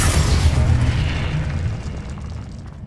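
A single heavy Confringo spell blast booms in Hogwarts Legacy during the Ancient Titan boss battle, a loud explosive burst that rolls off and fades over a few seconds with no talking.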